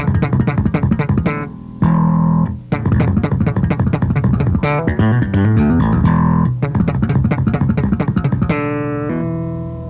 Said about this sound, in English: another way you can use this technique of slapping with your left hand on the neck is to get a real fast triplet kind of a lick